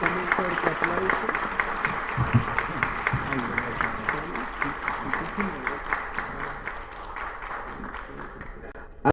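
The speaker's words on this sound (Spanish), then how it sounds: "Y lo despedimos con un fuerte aplauso." Audience applause closes a lecture at a psychoanalytic talk, steady clapping from a room of listeners lasting several seconds with a regular rhythm, gradually thinning toward the end, with no voices over it.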